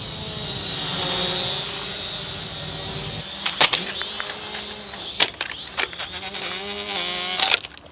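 A cheap toy drone flies outdoors over a field, its steady high-pitched motor whine running throughout, joined by several sharp knocks and bursts later on as it is pushed hard, with no clear talking.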